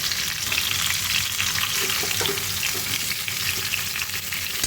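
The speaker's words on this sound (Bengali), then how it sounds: "তেলের সাথে আমগুলো আমি মিশিয়ে নাড়াচাড়া করে নিচ্ছি" Mango pieces for a sweet mango pickle frying in hot oil over medium heat while being stirred, a loud steady sizzle with faint scraping of the spoon throughout and no talking.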